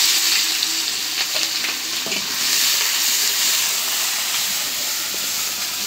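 Onions and green chilies sizzle and fry in hot oil in a village kitchen, a steady close crackling hiss with occasional stirring scrapes, no talking.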